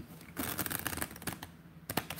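Playing cards are riffle shuffled up close, a fast crisp burst of flicking card edges followed by a brief pause and a final snap, with no talking.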